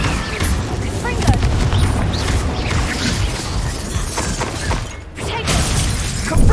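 Confringo blasting spells and Incendio fire bursts in the Hogwarts Legacy game on Xbox Series X, a dense, loud barrage of shattering explosions and crackling blasts that continues almost without a break, with battle voices mixed in.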